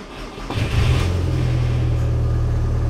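Audi 1.8T track car fitted with an aftermarket ECU cranks briefly, then fires and settles into a loud, steady idle rumble close by, with no talking.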